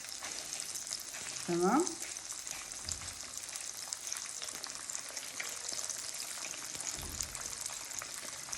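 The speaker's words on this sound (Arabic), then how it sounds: "نحمر بقى بقية الاسكالوب وارجع لكم تاني." Breaded escalope sizzles in hot oil in a frying pan, a constant close crackle throughout, while someone briefly says a word and there are a couple of soft kitchen knocks.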